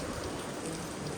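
Steady rain falls outdoors in cold weather, a dense, even hiss of drops that stays constant and fairly soft, with no voices.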